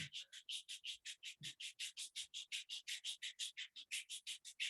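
Palms rub briskly together in a fast, even rhythm of about two dozen close, dry swishes, with no voice over them.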